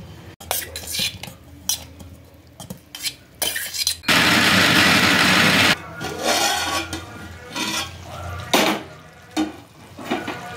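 A kitchen mixer grinder (mixie) runs in a loud, steady burst of just under two seconds, surrounded by the clatter of lids, utensils and dishes being handled nearby.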